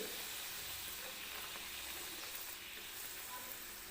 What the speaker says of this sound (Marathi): दुसरी पुरी सुद्धा मी तेलामध्ये टाकून घेते